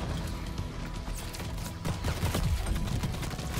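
Rapid gunfire in Call of Duty Vanguard, a dense run of close shots and bursts lasting a few seconds, with a busier, louder stretch toward the end.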